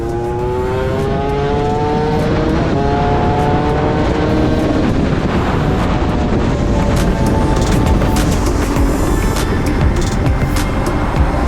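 Motorbike racing a local from the traffic lights on a rural Thai road, its engine revving up through rising gears in a loud, continuous roar with wind rush, no talk.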